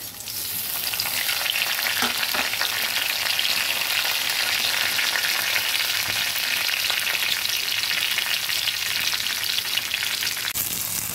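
Dried red chilli, a bay leaf and five-spice seeds fry in hot oil in a wok, a loud steady sizzle that starts abruptly and crackles continuously without any talking.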